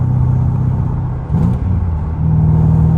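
Mercedes W210 E55 engine with a manual swap and light flywheel, a loud close rumbling drone that dips briefly and climbs again as the revs rise, with no talk.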